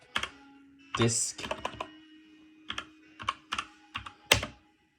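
Keys clatter on a computer keyboard in short bursts of several quick taps with brief pauses between, close and fairly crisp, while the inside of a Dell OptiPlex 7060 MT desktop is being looked over.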